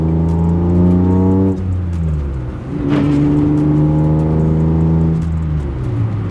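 A BMW E36 car engine with an M50 manifold swap revs up loudly and climbs in pitch, drops briefly at a gear change, then pulls hard again. Heard from close by.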